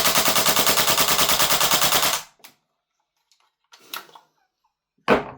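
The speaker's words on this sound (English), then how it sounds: "We're going to do another mag dump on auto." WellPro AK12 gas blowback gel blaster emptying a full-auto magazine in one loud, rapid, even burst of shots lasting about two seconds, then silence with a few faint clicks and handling knocks.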